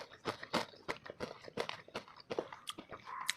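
Crisp bites and chewing of a crunchy Sasak Lombok snack, a rapid irregular series of sharp dry crunches close to the mic, with no talk.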